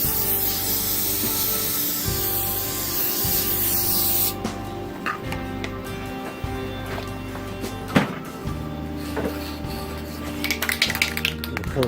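Polyurethane finish sprayed from an aerosol can onto a CNC-cut wooden sign, a loud hissing burst for about four seconds followed by quieter handling taps and scrapes.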